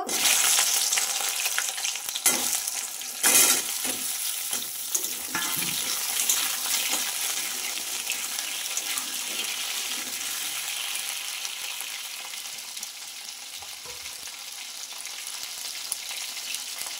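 Hilsa fish curry with taro simmers in a pan, giving a steady, close bubbling sizzle with a few sharp clatters near the start, then a softer even hiss.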